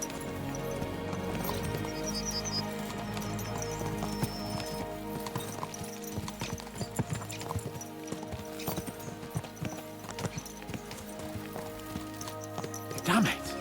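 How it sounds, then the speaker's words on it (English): Horses in Kingdom Come: Deliverance II clip-clop along steadily at close range, hooves drumming in a continuous rhythm over a music bed, with a brief whinny-like burst near the end. "Let's really spur these horses on, eh?"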